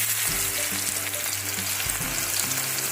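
Olives frying in a pan with dried chillies for a sweet-and-sour pickle, giving a continuous close sizzle with low humming tones underneath, steady throughout and with no talking.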